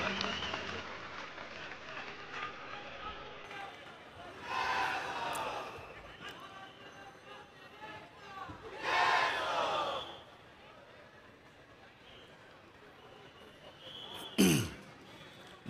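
A large crowd at a Raj Thackeray rally in Vikhroli roars in two swelling bursts of cheering and shouting over a steady din of crowd noise, ending with a sharp, brief loud sound.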